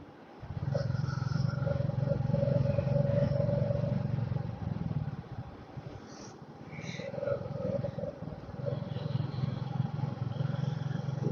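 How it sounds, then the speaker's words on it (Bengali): A small group of motorcycles rides along a rural road past mustard fields, with a steady, close engine drone running throughout under continuous talk. "আমাদের সামনে 3টে বাইক আছে, আমি চালাচ্ছি একটা বাইক"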